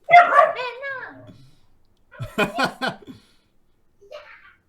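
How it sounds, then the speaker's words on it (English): A corgi barks wildly and close up in rapid yapping bursts, pausing briefly before another frantic flurry and a few fainter yips at the end. "corgi going absolutely ballistic"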